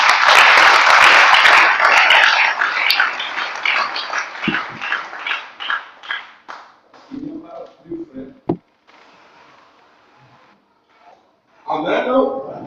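A church congregation applauds loudly at first, the clapping thinning into scattered claps over several seconds while a preacher's voice continues in French above and after it.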